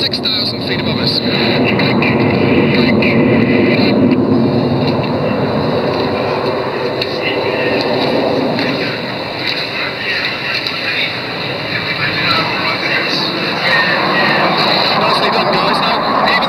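Red Arrows jet aircraft pass overhead at the Goodwood Festival of Speed air display, a broad, roaring jet rumble that swells and fades slightly over the long pass, with a commentator talking over it.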